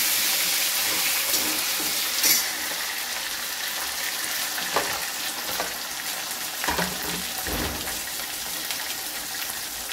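A small tomato and curry leaves sautéing in hot oil for a Maharashtrian matki curry, a steady close sizzle with occasional scraping stirs and soft knocks of a spoon against the pan.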